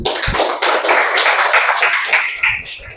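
Audience applause indoors, a dense burst of many hands clapping close by, steady for a few seconds before thinning out at the end.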